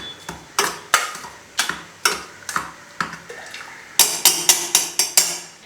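Cooked lentils for sambar being mashed with a masher in a pot, a string of wet, squelching thuds in a steady rhythm, close and fairly loud, speeding into quicker strokes toward the end.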